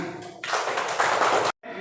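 Children in a classroom clap their hands together in a brief, loud burst of dense clapping that starts after a quiet moment, cuts off abruptly, then resumes faintly.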